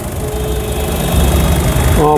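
A 2018 Honda car engine idling with the bonnet open, a steady low rumble and hum with faint mechanical tones, close and even.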